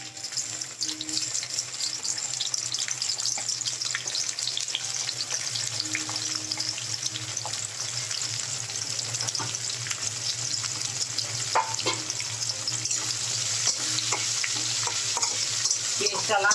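Onions frying in a pan of oil with cinnamon and cardamom, a steady close sizzle running throughout with occasional stirring scrapes and clinks, no voices.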